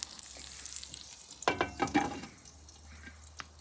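Chicken for chicken perattu cooks in masala in a covered pan, giving off a soft, steady sizzle with a short burst of clattering in the middle. It stays quiet and close throughout, and no one speaks.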